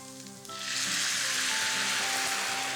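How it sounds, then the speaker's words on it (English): Mushrooms in a pan sizzle loudly after a splash of white wine hits it, a sudden burst of bright frying hiss that swells within the first second and then holds steady and close. "And let that sizzle away."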